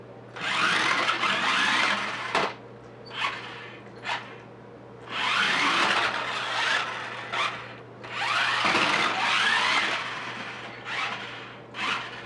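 A Tyco RC Scorcher 6x6 remote-control truck drives indoors, its electric motor whining in several loud, bursting runs separated by brief pauses and short clicks, close by with no talk.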